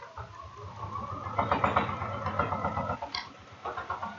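A sewing machine with an AcuFlex foot stitches binding with a decorative stitch, making a steady rapid mechanical chatter and hum close by that speeds up briefly and then slows.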